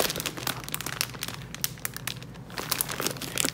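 Paper crafting kit with doilies and stickers handled up close, giving steady crinkling and rustling of paper and plastic packaging for a few seconds, with no talk.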